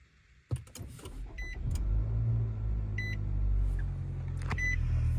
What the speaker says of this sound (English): The car sounds horrendous. Listen.